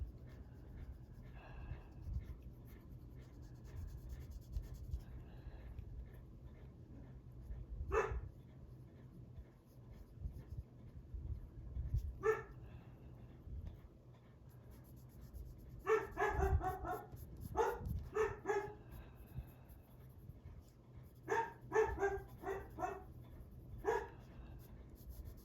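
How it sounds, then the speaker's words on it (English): A dog barks in short, sharp bursts in the background, with a few isolated barks early on and a denser run of repeated barks later, over a steady low indoor hum. "No idea what he's barking at, as usual."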